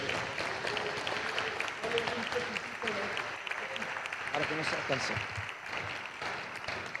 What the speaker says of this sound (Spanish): dele un aplauso al Señor nuestro Dios